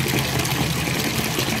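Tap water runs and splashes steadily onto a hard Lana's bubble bar with added glycerin, a close, continuous rushing wash with no pauses.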